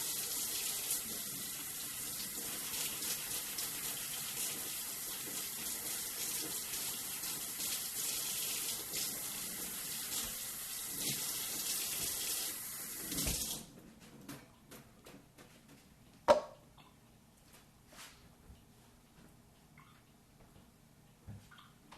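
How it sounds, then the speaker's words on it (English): A carrot is scrubbed with a kitchen scrubby under a running kitchen tap, a steady hiss of water with faint rubbing that stops after about thirteen seconds, followed by quiet handling noises and a single sharp knock. "And I'm going to use my kitchen scrubby. I don't peel carrots, I scrub carrots."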